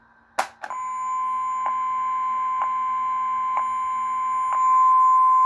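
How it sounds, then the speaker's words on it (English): Bop It XT toy in test mode: after a couple of quick clicks, a steady high electronic tone sounds, pulsing with faint ticks about once a second, close and clear with no talk. "hold both Bop It buttons and then it'll make a beep noise"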